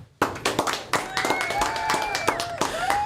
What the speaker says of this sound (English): So give Chris a round of applause.